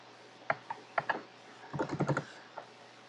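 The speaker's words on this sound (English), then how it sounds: "type VNC viewer." Keys are tapped on a computer keyboard: a few separate clicks, then a quick cluster of keystrokes and a final tap, close and quiet over a faint hum.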